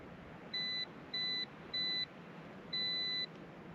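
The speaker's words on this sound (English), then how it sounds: "Now you're going to hear a series of beeps, and what that's doing is it's pairing to the drone." Ruko F11PRO 2 drone remote control beeping while pairing with the drone: four clear, evenly pitched electronic beeps, the last one longer, standing out alone over a faint background hiss.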